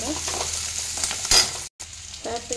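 Garlic and onion frying in mustard oil for a palanga curry, a close steady sizzle with scraping stir strokes and a sharp clatter, a brief dropout, then sizzling continues.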